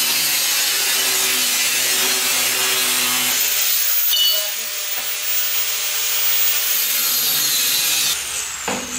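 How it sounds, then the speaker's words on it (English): A power saw grinds steadily through metal tabs on a galvanized steel piece during a VW trike build, a loud continuous cutting whine that shifts pitch midway and eases near the end. "I'm gonna cut these tabs off of this piece of galva here"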